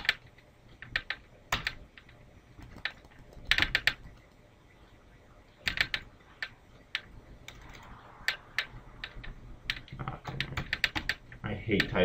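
Keyboard typing in short bursts of quick clicks separated by pauses, close and fairly quiet, with a faint low hum underneath.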